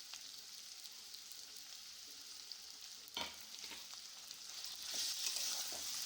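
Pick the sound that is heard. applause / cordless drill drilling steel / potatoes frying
potatoes frying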